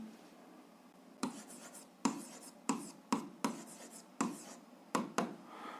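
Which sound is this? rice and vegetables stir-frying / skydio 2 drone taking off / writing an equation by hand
writing an equation by hand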